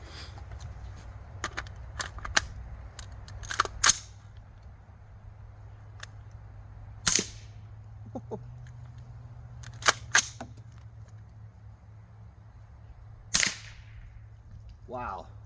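Suppressed rifle shots fired with subsonic ammunition land as sparse, short, sharp cracks spaced several seconds apart over a low steady hum, fairly quiet and close, with no talking.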